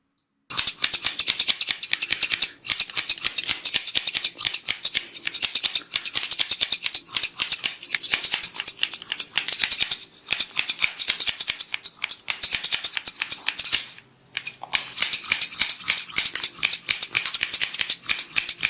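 Close, steady snipping of scissors through hair, a rapid crisp rhythm of cuts that continues nearly throughout with one brief pause.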